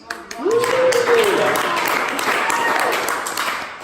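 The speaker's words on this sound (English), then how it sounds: "I appreciate the applause" A comedy theater audience breaks into applause, a broad wash of many clapping hands that holds steady while a voice rises and falls over it.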